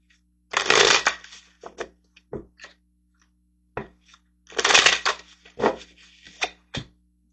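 Tarot cards shuffled by hand in two bursts of rapid riffling and rubbing, each followed by a few single soft card slaps and taps, close and alone with no voices.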